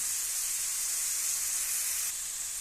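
Onions sizzle steadily with salt in a hot pan while being sautéed for a liver curry, giving a close, even frying hiss that lasts throughout.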